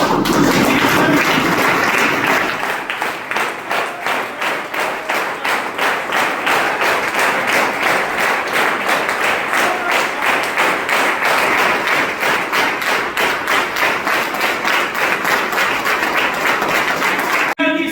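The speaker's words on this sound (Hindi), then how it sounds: "जोरदार की तालियां खड़े होकर बजाएं" Loud, sustained clapping from an audience rising to its feet at a motivational speech, dense rhythmic claps filling the room for most of the stretch and carrying on steadily to the end.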